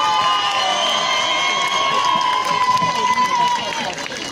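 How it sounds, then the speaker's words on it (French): Outdoor festival-of-lights crowd on a hillside cheering and clapping for young performers, a loud mix of whoops, shouts and children's voices that swells toward the end. "on applaudit bien fort donc nos jeunes de la Pauline"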